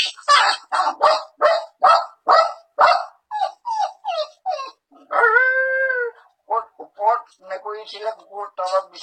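A man vocally imitates a dog, voicing a rapid string of loud barks, then a drawn-out howl and further yips, close and alone.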